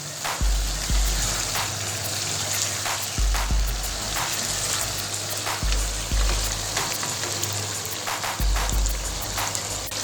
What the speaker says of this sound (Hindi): अब इसको बीफ को मसाले के अंदर 10 मिनट भूनेंगे